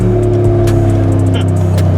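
A modified Brabus 800 G63 engine, tuned to over 860 horsepower, revs loudly up close, a deep steady rumble swelling as the throttle opens.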